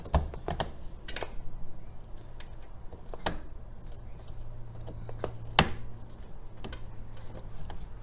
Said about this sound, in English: Clicks in, locks into place.